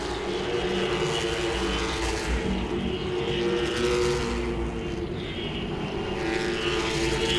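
Late model stock cars race at Langley Speedway, their engines a steady, loud roar that swells and fades slightly as the pack circles, with no gaps and no talking.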